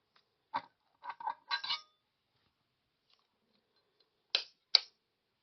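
A Trangia simmer ring clinks against a metal camping stove in a few sharp metallic taps, a cluster of light knocks followed by a pause and then two more crisp clinks, heard close in a quiet setting.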